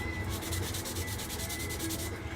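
Steady rhythmic sanding strokes rub back and forth on a 1/48 scale F-22 Raptor plastic model kit part, close and continuous, about a dozen even passes with no talking.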